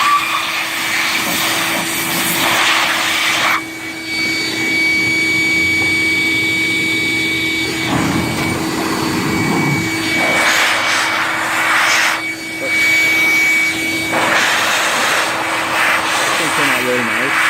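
Compressed air blasts dirt out of GY6 scooter parts, including a throttle tube, in several loud, long hissing bursts separated by pauses, with someone talking between them.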